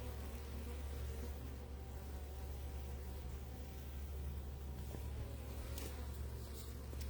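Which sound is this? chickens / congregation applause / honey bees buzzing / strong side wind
honey bees buzzing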